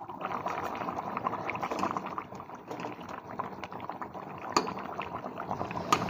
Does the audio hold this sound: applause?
no